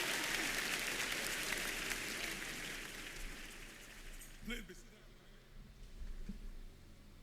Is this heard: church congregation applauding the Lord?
yes